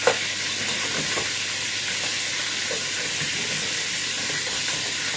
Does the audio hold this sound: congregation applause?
no